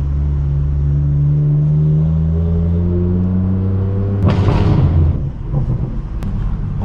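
A straight-piped BMW M4 F82 drones steadily on a night drive through Los Angeles, then barks sharply through an aggressive downshift with a loud, rasping burst before settling back to a lower rumble.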